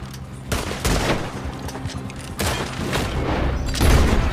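Gunfire during a street shootout in the video game Red Dead Redemption 2, several loud overlapping volleys of shots with booming low-end, in bursts around a second apart.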